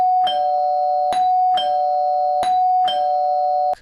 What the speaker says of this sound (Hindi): तभी दरवाजे पर 3 बार डोरबेल बजती है।